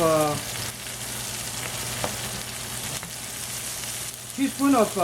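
Onion, ginger and garlic stir-frying in a pan for a chicken cashew stir fry, a steady broadband sizzle with a few soft spatula scrapes, close and moderately loud, with a brief voice at the start and end.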